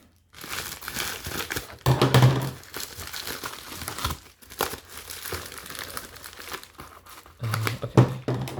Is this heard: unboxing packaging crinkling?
yes